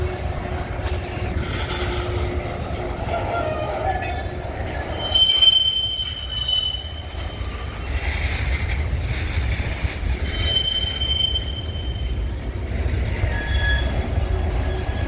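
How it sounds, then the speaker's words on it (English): A Union Pacific SD40 light-power locomotive consist rolls past with steady rail rumble and shrill, sustained wheel squeal throughout, loud and close, with brief clanks along the way. "Yeah, that's gotta be a UP SD40 or GP40, whatever."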